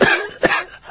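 An old man in a radio drama coughs in a quick rough burst, then again with a harsh throaty hack, close and fairly loud with no talk.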